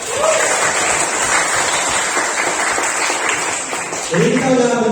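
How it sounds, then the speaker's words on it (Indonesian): Students in a classroom clapping together, dense and continuous applause mixed with crowd noise and some voices, with chatter emerging near the end. "tepuk tangan dong"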